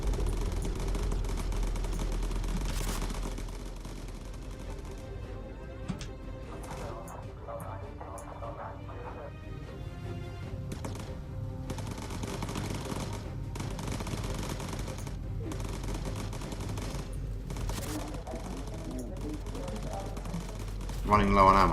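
Gunfire raking a bomber aircraft in the game Bomber Crew: rapid machine-gun bursts rattle in clusters over a steady engine drone, with voices talking over parts of it.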